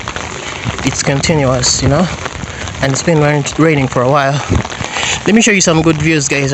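Steady rain falling in Entebbe, Uganda, a continuous patter on surfaces beneath someone talking loudly and close.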